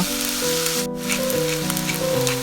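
Rice filling for squid sundae sizzles steadily as it is stir-fried in a hot pan with pepper, a loud continuous crackle with a tonal hum beneath it.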